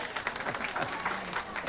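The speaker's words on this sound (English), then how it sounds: "And a well-deserved round of applause." Spectators applauding a spare at a candlepin bowling tournament, a brief steady patter of crowd clapping with some voices mixed in.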